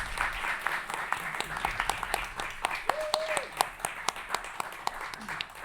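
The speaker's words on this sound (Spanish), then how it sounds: "les quiero pedir un gran aplauso por este logro" Audience applause at a book launch, scattered sharp claps building over a murmur of voices, with a brief whistle-like tone partway through.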